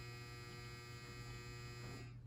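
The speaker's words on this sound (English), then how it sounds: "Sorry guys about the dryer." A clothes dryer runs with a steady, low mains-like hum and constant broadband whir, faint and unchanging throughout, with no voices.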